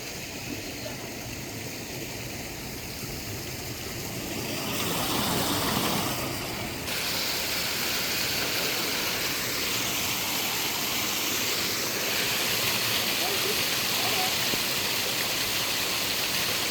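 Water runs steadily through a shallow stream in Coimbatore as a continuous broadband rush, with a slight swell partway through and voices faintly beneath it.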